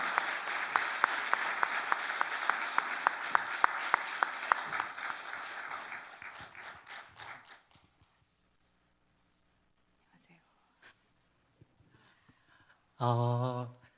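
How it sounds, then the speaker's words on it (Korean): A church congregation at a Sunday afternoon outdoor worship service claps loudly in a quick, steady rhythm to welcome a choir member. The clapping fades out after about eight seconds, a quiet pause follows, and a voice starts at the end. "네, 큰 박수로 모시도록 할게요."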